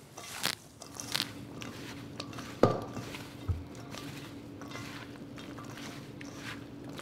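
Sliced Granny Smith apples are tossed by hand with lemon juice and cinnamon, giving soft wet squelches and a few sharp crunchy clicks against a bowl in a quiet kitchen.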